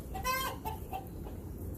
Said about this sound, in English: I can't bring all these chickens in